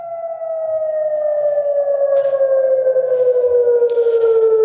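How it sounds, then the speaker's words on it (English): A loud air raid siren in Israel during widespread attacks wails steadily with a slowly falling pitch, sustained and dominant, with faint background noise beneath. "you can hear the sirens going off behind me"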